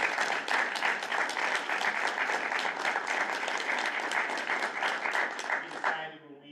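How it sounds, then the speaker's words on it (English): A school board meeting audience claps for student performers, a steady, fairly loud round of many hands that carries on for about six seconds before thinning out at the end. "So let's give them a round of applause."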